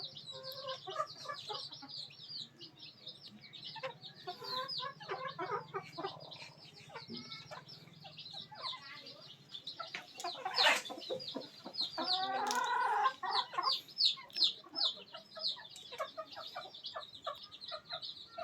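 Three young pullet hens in a backyard breeding setup cluck and call in repeated bursts at close range, growing louder and more agitated toward the end, alone without talk.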